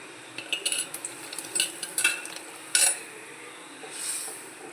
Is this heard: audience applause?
no